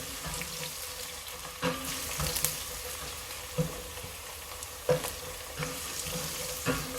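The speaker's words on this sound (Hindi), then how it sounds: "लहसुन और अदरक और हरी प्याज को डाल देंगे। अब हम इसे भी 2 मिनट के लिए पका लेंगे।" Garlic, ginger and green onion frying in a pan over medium-low heat, giving a soft, continuous sizzle broken by a few sharp stirring clacks, with no speech.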